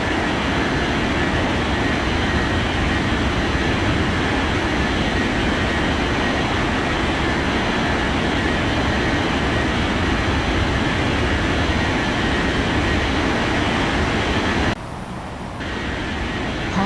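Steady broadband engine roar of an Emirates Boeing 777-300ER taxiing at Las Palmas Airport, loud and continuous with a brief dip near the end.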